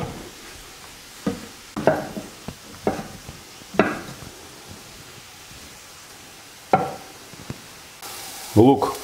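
Soft sizzling of onions and mushrooms frying in a pan, broken by several sharp clacks and scrapes of a utensil stirring against the pan.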